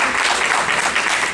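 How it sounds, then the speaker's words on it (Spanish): An audience at a Honduran resistance gathering applauds, a dense, steady clapping that fills the space, loud and continuous with no talk over it. "así que démonos un aplauso"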